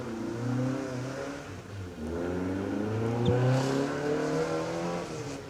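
A Porsche race car at a hillclimb event roars past under load, its engine note steady and strong, rising and falling as it accelerates, heard from a moderate distance with no one talking.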